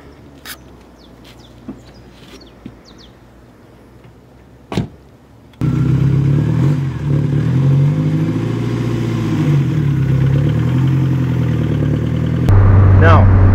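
An Audi TT engine hums steadily during a ride, rising and easing as it revs with a sharper jump near the end, after a quieter stretch of faint background sounds.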